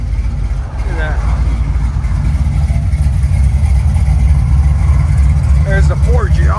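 A 1966 Chevy Chevelle SS with a 498 V8, long-tube headers and Flowmaster 40 Series mufflers idles close by with a loud, steady low rumble, while people talk over it.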